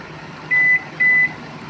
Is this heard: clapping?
no